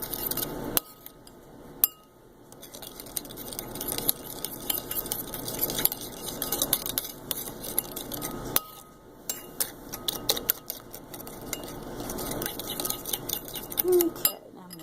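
A utensil stirs garden-harvest food after extra virgin olive oil is added, giving scattered clinks and scrapes against a bowl over a steady background, with occasional sharper taps.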